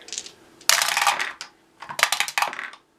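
Three dice for a Memoir 44 board game tank attack clatter onto a table in two bursts of sharp plastic rattling and tumbling, close and loud, with no talking.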